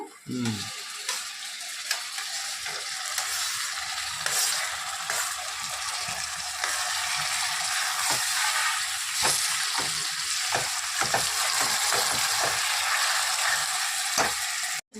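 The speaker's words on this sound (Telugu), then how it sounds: "ఇదిగోండి టమాటాలు వేసేస్తున్నాను" Tomatoes drop into a hot frying pan for a garlic chili egg curry, and the oil crackles into a dense, steady sizzle that runs nearly unbroken. Occasional clinks and stirring scrapes sound over the sizzle, with no voice.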